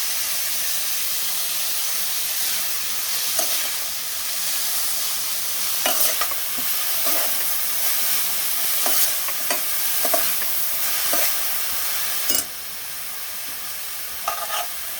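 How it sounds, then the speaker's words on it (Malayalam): Chicken cooks with onions and salt in an open pan for North Indian–style butter chicken, a steady close sizzle broken by repeated scraping stirs, the level dropping slightly near the end. "ആ സമയം കൊണ്ട് ചിക്കൻ ഇവിടെ നന്നായിട്ട് കിടന്ന് വേവുന്നുണ്ട്."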